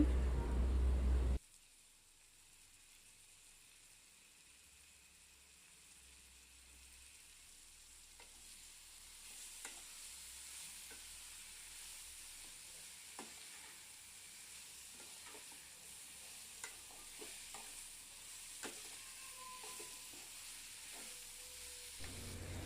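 Raw banana pieces fry in a pan with a low, steady sizzle and scattered faint pops and clicks of stirring, quiet and close, without any voices.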